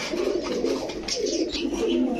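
Old-breed red-necked plain pigeons coo nearby in a soft, repeated rolling burble, with a few chirps mixed in and no talking.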